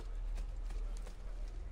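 Horse hooves clip-clopping in Assassin's Creed II, a steady galloping patter of soft thuds heard closely over a constant low rumble of game ambience, with a voice talking faintly underneath.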